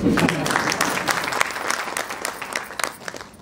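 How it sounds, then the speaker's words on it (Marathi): An indoor audience at a lecture series claps steadily, a dense stretch of applause from many hands that slowly thins and fades toward the end. "टाळ्या मधून वाजवू शकता तुम्ही."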